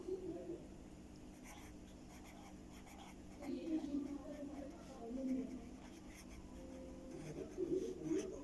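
A pen writing on paper makes faint scratching strokes under quiet talking, low and close.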